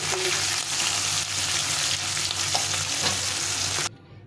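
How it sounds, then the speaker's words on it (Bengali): Hilsa fish pieces frying lightly in oil in a pan for a potato-and-eggplant curry, a steady close sizzle and crackle that holds throughout and cuts off abruptly near the end. "মাছগুলো ভেজে নিয়েছি, হালকা করে,"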